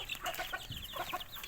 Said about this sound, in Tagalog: Ito yung inahin.